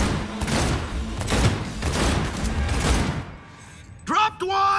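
Cyberpunk 2077 gunfire comes as rapid bursts of loud shots for about three seconds, then stops, followed by short voice and game sound effects.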